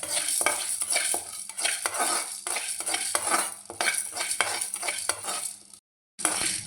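Lentils roast in a pan while being stirred briskly, producing repeated close scraping and rustling strokes in a steady rhythm over a faint sizzle.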